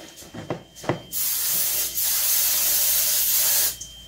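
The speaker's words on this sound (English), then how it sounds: "let's spray it down with some cooking spray" A few short taps, then cooking spray hisses steadily into a bowl for a couple of seconds, breaks briefly, and hisses again at close range.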